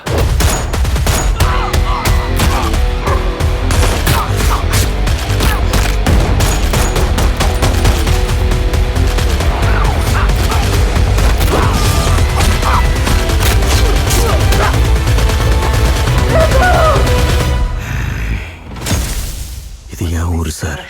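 Gunfire in a Tamil action film trailer: rapid bursts of shots and machine-gun fire crackle densely over a loud score, with voices mixed in, before a brief drop near the end.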